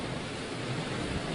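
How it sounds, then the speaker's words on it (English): Hurricane Irma wind roars during landfall on Marco Island, heard from inside a reinforced concrete stairwell: a loud, continuous, rumbling rush of air that holds steady for over a second, with no voices. "Now that right there was the strongest gust that we have experienced so far"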